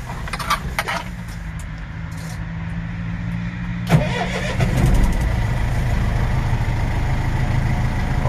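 A 2013 GAZ 3309 dump truck diesel engine cranks with a sharp burst and starts, then settles into a steady, loud, rumbling idle close by.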